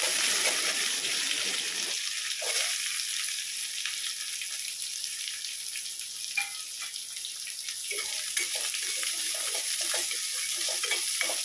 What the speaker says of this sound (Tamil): வெங்காயத்தை நல்லா வணக்கிங்க.